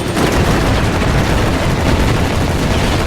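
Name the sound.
anime gunfire, firing with full power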